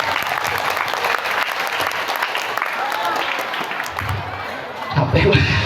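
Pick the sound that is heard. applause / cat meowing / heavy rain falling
applause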